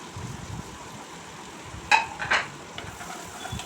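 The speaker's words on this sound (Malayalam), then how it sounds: "ഗ്രീൻ ചില്ലി നമ്മുടെ എരിവിനനുസരിച്ച് ഗ്രീൻ ചില്ലി ആഡ് ചെയ്യുക കേട്ടോ. ചോപ്പ് ചെയ്ത സവാളയാണേ." Chopped onion and green chilli fry in a pan, a steady soft sizzle running throughout, broken near the middle by a couple of sharp scrapes as the mixture is stirred.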